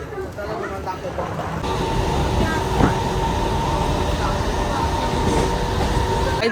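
A train rumbles steadily and loudly at close range at Kalyan railway station, with faint tonal squeals and a background murmur of voices around it.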